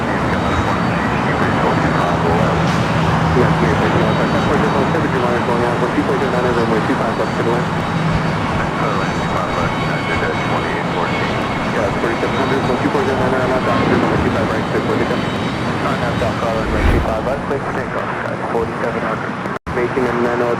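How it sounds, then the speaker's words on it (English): An Air Tahiti Nui Boeing 787 Dreamliner arrives at LAX with a loud, steady engine roar lasting throughout, mixed with a dense airport background and some talk. "Straight to South Cam 1 for the Dreamliner arrival."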